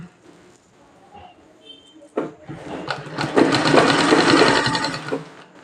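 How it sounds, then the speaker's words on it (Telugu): A sewing machine runs in a fast, steady whir while stitching a frock for a six-year-old girl, starting after a quiet pause and sounding close and fairly loud with no talk. "ఇలా చూడండి ఇలా మరో కుట్టు వేసుకుందాం"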